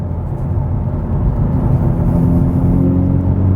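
A 2019 Hyundai Veloster N with a 6-speed manual gearbox drives in N mode in fourth gear, its engine a loud, steady low rumble with a droning whir throughout.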